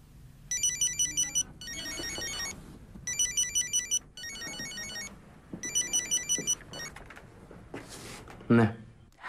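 A mobile phone ringtone rings in four or five repeated bright bursts, steady and fairly close, with faint room sounds and a dull knock near the end.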